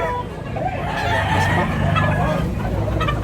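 Chickens at a poultry sale in Tabunok, Cebu, with a rooster crowing amid steady clucking and a busy crowd of voices nearby.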